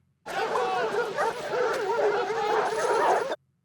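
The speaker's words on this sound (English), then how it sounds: "What do they need the dogs for?" Several dogs bark and yelp excitedly and continuously for about three seconds in a scene from Schindler's List, loud and overlapping, with a brief whine among them.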